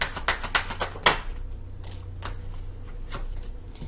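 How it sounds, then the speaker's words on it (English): A deck of cards is shuffled close by, with a quick run of crisp riffling bursts in the first second, then softer, scattered flicks. "When I was shuffling the deck"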